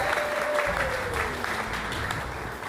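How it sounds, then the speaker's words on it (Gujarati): Audience at a public speech clapping together, a dense steady patter of applause with a faint tone drifting underneath. "એમના માટે એક જોરદાર તાળી થઈ ગઈ છે"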